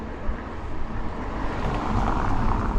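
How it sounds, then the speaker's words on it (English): Street traffic in Blackpool near the Talbot Gateway development, a steady low rumble of passing vehicles with some wind, swelling slightly as a vehicle nears. "Sorry about the traffic noise."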